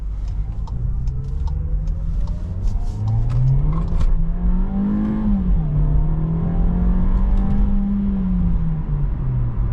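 A 2024 Volkswagen Jetta in sport manual mode pulls away on a side street, its engine note climbing steadily, easing and climbing again, heard close from inside the cabin with faint ticks over the steady hum.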